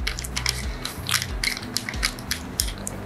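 A hose fitting on a XENON jet cleaner steam car-wash machine is twisted tight by hand, giving a close, rhythmic run of grinding, ratchet-like clicks.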